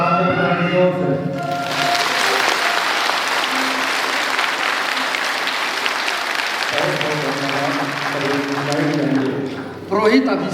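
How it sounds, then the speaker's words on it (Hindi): A church congregation at a priestly ordination claps loudly and steadily for several seconds, with a voice speaking over the start and end of the applause. "हाथ ऊपर करेंगे और ताली बजाएंगे जोर से।"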